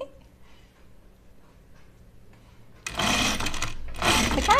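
A sewing machine stitches fabric for an Opium Coat in two loud bursts of rapid whirring that follow a quiet stretch of faint background noise.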